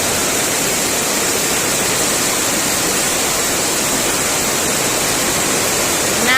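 Heavy rain pours down and floods a garden, filling the scene with a loud, unbroken roar of falling water with no speech.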